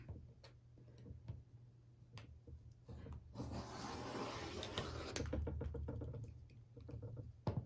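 Rotary cutter slicing through quilt fabric while squaring a quilt, a soft steady scraping stretch in the middle flanked by scattered light ticks and taps of the ruler, close and quiet with no talk.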